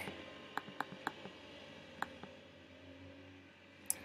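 A computer mouse clicks quietly several times, a quick cluster of sharp ticks followed by a couple of isolated clicks, close and alone in a quiet room.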